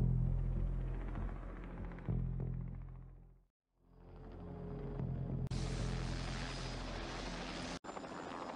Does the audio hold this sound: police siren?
no